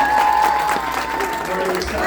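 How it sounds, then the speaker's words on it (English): Audience applause at a live comedy show, a steady wash of clapping from the crowd that holds its level for a couple of seconds, with some voices mixed in. "Guys, give yourselves a round of applause."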